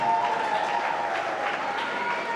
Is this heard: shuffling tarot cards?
no